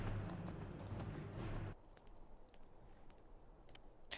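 A horse's hooves clip-clop in a quick rhythmic series over a loud rumbling bed that suddenly drops away, leaving fainter, sparser hoofbeats.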